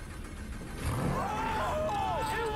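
A damaged Lamborghini engine cranking and firing up after a train crash, a low rumble that swells into a louder, rising revving roar, with voices nearby.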